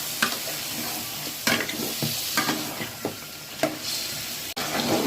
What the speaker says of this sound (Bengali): এখন আমি গোস্তগুলো দিয়ে দিব। তারপরে ভালো করে কষিয়ে নিতে হবে।